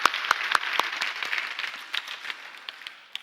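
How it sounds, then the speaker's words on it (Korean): Applause from a congregation during a Sunday church service, scattered claps with a few sharp close hits at the start, moderately loud, without speech. "우리 박수를 한번 격려합시다"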